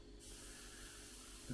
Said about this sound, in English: if we hold the airbrush well away from the model, we want to unify all the different colours.